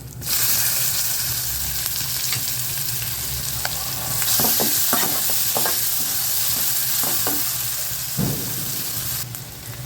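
Onion hisses loudly in hot oil with asafoetida for kuzhi paniyaram made from idli batter, a steady sizzle under occasional stirring clinks and scrapes.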